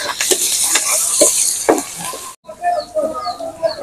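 Onion paste and ginger-garlic paste sizzling in hot oil, a close, loud hiss broken by stirring scrapes, with a short cut about two-thirds through before the sizzle resumes.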